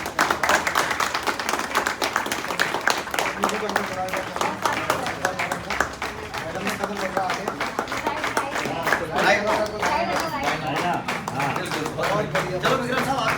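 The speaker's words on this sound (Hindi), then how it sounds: "जोरदार तालियां।" Loud, sustained applause from a crowd at the opening of a Himani Wellness Centre franchise in Haldwani, dense rapid clapping heard up close with voices mixed in throughout.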